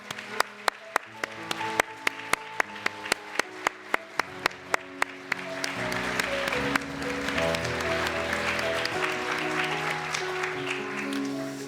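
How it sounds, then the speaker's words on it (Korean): A church congregation at a New Year's Eve service bursts into sustained applause for standing elders, the clapping rising to a dense, steady roar that holds to the end; sharp isolated claps come first, with music or tones sounding underneath. "박수하겠습니다."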